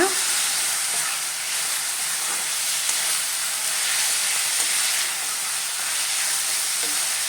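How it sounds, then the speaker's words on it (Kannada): Cluster beans fry in a pan with a steady, loud sizzle and hiss while turmeric powder is stirred in, with faint scrapes and taps of the spoon against the pan. "ಈಗ ಒಂದು 1/4 ಟೀ ಸ್ಪೂನಷ್ಟು ಅರಿಶಿನ ಪುಡಿ, ಇಷ್ಟು ಹಾಕ್ಕೊಂಡು ಮಿಕ್ಸ್ ಮಾಡ್ಕೊಳ್ಳೋಣ."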